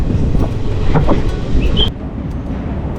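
Palaruvi Express sleeper-class train running between Palakkad and Tirunelveli, a loud continuous rolling rumble with rhythmic wheel clacks and a brief high squeal, the roar dropping slightly near the end.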